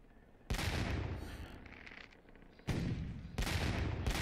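Ship cannons fire broadsides in Sea Dogs: To Each His Own. Three heavy, booming volleys each roll and rumble on for a second or more, the first standing alone and the last two coming close together.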